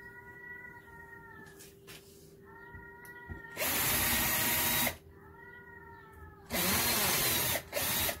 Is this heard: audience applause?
no